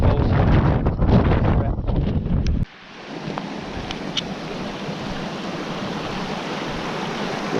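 A mountain stream rushes steadily on the Aber Falls walk in Snowdonia, a constant broadband wash that follows a burst of loud wind buffeting on the microphone.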